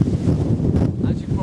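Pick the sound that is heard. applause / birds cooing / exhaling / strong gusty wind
strong gusty wind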